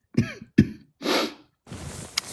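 Two sharp coughs close by, followed by a breathy throat-clearing rasp and a softer hissing tail, with brief silences between bursts.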